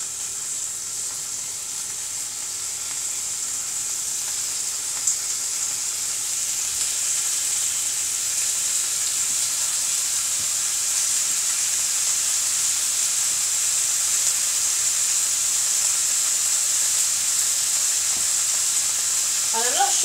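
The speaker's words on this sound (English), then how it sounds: "I'm going to get my tofu and pop it in the pan" Tofu fries in a pan with a steady, soft hiss that grows slightly louder over time, with no stirring and only a faint tonal blip at the very end.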